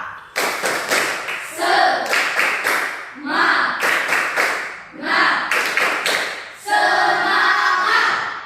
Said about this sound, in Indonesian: Silakan tepuk semangat untuk kelompok A.